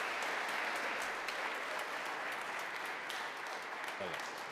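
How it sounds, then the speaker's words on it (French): A church congregation at a first communion service claps together in a steady round of applause, dense and moderately distant, continuing for several seconds with a voice briefly audible near the end. "Je pense qu'on peut l'applaudir pour l'encourager un petit peu dans ces moments."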